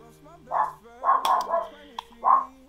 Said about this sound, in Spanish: Ay, mi perro.